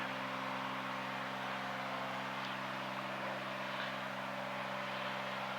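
Steady drone of a light training airplane's engine in flight near El Monte, a constant loud hum with no break and no talk over it.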